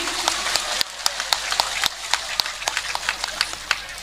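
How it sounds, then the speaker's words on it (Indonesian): Scattered applause from a crowd at a public religious gathering, a hiss of clapping punctuated by sharp individual hand claps at an uneven rhythm, fairly close and moderately loud, without speech. "Tepuk tangan dulu dong buat Mumun nih."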